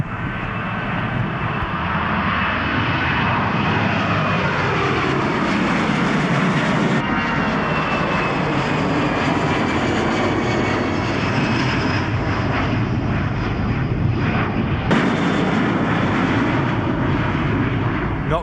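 A fixed-wing aircraft passes low directly overhead, a loud, steady engine roar with deep bass that fills the whole stretch, heard from right beneath its path.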